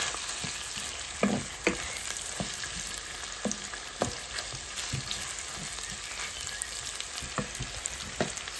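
Bacon with spices and red pepper fries in a pan while being stirred, a constant sizzle broken by repeated scraping knocks of the spoon against the pan at an irregular pace.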